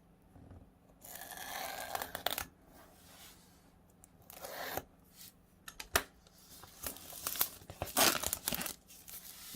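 Cardboard on the back of a Melofun Power Pods Bluetooth 5.0 product box is cut open, giving faint, close tearing and crinkling scrapes in irregular bursts with short pauses between them.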